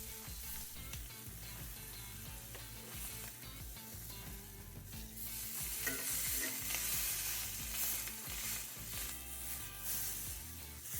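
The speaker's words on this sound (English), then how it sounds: "The fun part of using a cast iron, however, is that sizzle." Steady crackling sizzle of meat frying in a hot cast iron pan, continuous and close, with occasional louder pops and some clinking.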